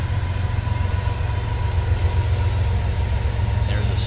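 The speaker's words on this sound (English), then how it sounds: "as the trains continue to come" A train rolls past near a youth baseball field during an 8th-grade game against the Boone Toreadors, giving a loud, steady low rumble that fills the whole stretch without letting up.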